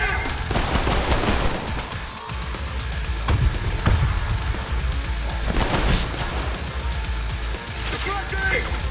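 Rapid, dense shotgun blasts in the shooter game Trepang2, booming one after another over chaotic combat noise with someone talking throughout.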